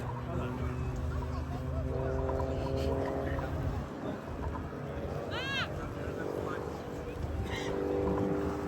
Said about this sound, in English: Bob will now enter the final section of display with an oblique loop and a half Cuban.